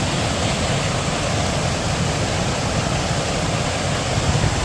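A waterfall on Scotland's North Coast 500 pours in a steady, loud, broadband rush of falling water that stays constant throughout, with no voices.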